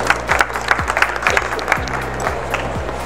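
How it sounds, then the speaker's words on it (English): An audience claps to welcome a speaker at a talk about the Asian Apprenticeship Awards. The applause is a steady, moderately loud patter that runs for the whole stretch with no voices over it. "Can we give her a warm round of applause?"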